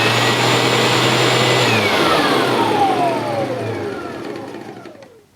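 A Sebo Evolution 300 commercial upright vacuum cleaner runs with a loud, steady motor whine, then is switched off and winds down, its pitch sliding lower as it fades to near silence.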